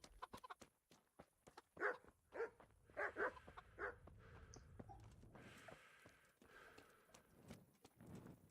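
Dogs bark in short bursts amid clopping hooves and faint farm animal sounds in a medieval village in Kingdom Come: Deliverance, fairly soft and spread across the scene.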